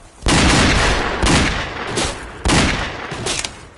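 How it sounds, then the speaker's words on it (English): Rapid fan-fire gunshots from a revolver in a Roblox wild west game: three loud bursts of quick, close shots, each trailing off briefly before the next, with no talking. "Fan fire on him, even if I don't hit any headshots, let's say."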